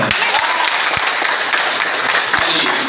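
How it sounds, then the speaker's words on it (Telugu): Audience applause at a recognition ceremony, dense and steady from start to end, with a few sharper claps standing out in the wash of hands. "మరొకసారి బిగ్ క్లాప్స్"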